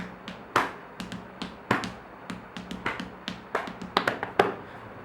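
Hands tap out a loose rhythm on the body, sharp slapping hits of varying strength spaced unevenly, close and clear over a quiet background.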